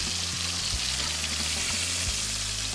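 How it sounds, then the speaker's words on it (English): Food sears in a hot pan with a dense, continuous sizzle, close and even throughout, broken by a few low thumps. "We're gonna sear off."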